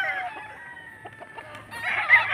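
Chickens for sale at a poultry stall, with a rooster crowing loudly near the end after a stretch of softer clucking and background noise.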